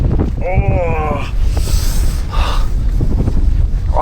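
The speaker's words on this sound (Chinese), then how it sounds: "每天都是在跟大风做抗争啊！" Strong wind gusts buffet a campsite in Iceland, loud and roaring, with a broadband rush peaking around two seconds in, while a person gasps and exclaims under the blowing.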